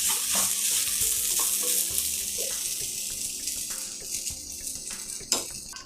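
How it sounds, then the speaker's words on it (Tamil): Mango and coconut sautéed in sesame oil hiss and sizzle steadily in a pan, with a spoon stirring and scraping through the continuous frying noise and no one talking. "ஒரு 2 நிமிஷம் வதக்குங்க நல்லா."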